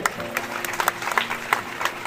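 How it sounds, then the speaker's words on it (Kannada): An audience at a Navratri Dandiya event applauds a performer, a short burst of mixed hand claps beneath a voice speaking over the crowd. "ಅದಕ್ಕೆ ಜೋರಾದ ಚಪ್ಪಾಳೆಯೊಂದಿಗೆ"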